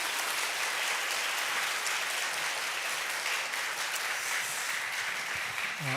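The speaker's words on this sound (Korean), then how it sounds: "네, 우리 감사의 박수 드리겠습니다." Korean church congregation giving applause of thanks during a Sunday worship service; a sustained wash of many hands clapping, moderately loud and even, continuing without a break and with no speech on top.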